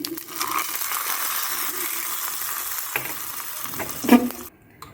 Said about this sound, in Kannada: ಇವಾಗ ಒಂದು ಒಳ್ಳೆ ಒಗ್ಗರಣೆ ಹಾಕ್ತಾಯಿದ್ದೀನಿ